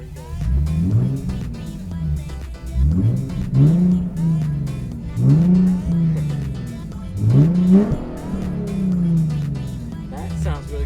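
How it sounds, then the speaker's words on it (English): A Nissan 370Z with air suspension revving hard in repeated bursts, rising and falling about every two seconds, loud and close, with a voice briefly audible. "See if I could get some revs for you"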